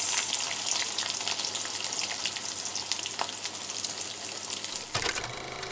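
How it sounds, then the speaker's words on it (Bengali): Chopped onion, green chili and shrimp frying in hot oil, a steady loud hiss and crackle that continues evenly, with a brief clatter near the end. "এখন মুই এর মধ্যে দিয়ে দিব পেঁয়াজ কুচাইয়া আর দিয়ে দিমু কাঁচামরিচ আর চিংড়ি মাছ"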